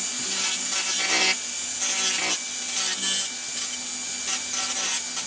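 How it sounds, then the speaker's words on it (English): Rotary cutoff wheel grinding against brass handrails on an HO scale Bachmann U36B model locomotive, a close, continuous abrasive rasp with rhythmic surges as the wheel is drawn back and forth. "We're gonna try cleaning him up on the table with the cutoff wheel."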